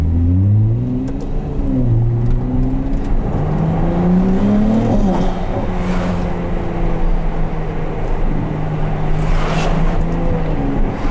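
A 2022 Ferrari 296 GTB hybrid accelerating from inside the cabin, the engine note climbing through several rising pitch sweeps with quick upshifts between, loud and continuous.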